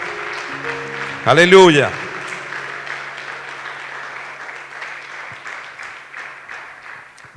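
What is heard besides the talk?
church congregation applauding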